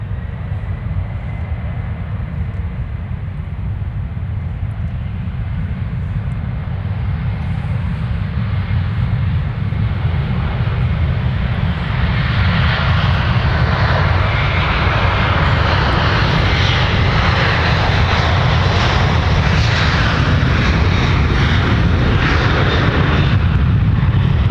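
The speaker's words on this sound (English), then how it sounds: "Delta 258 now departing to Dublin" Delta 258 Heavy, a large jet airliner departing MSP airport for Dublin, builds into a loud, steady engine roar with deep rumble that grows and brightens as the takeoff run continues.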